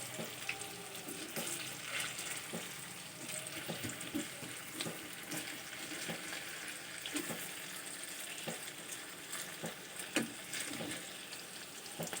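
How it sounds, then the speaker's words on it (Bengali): Banana flower fritters frying in a pan, a soft steady sizzle with scattered pops and clicks, fairly faint and close, no voices. "এক দিকটা ভালো করে ভাজা হয়ে গেছে এবার অন্য দিকটা ভালো করে ভেজে নেব"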